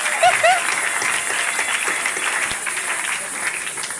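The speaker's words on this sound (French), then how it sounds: "Acclamons fort pour le Seigneur." An audience applauds at a gospel concert, a dense, steady wash of clapping that stays loud from start to finish, with a few faint voices and cheers mixed in.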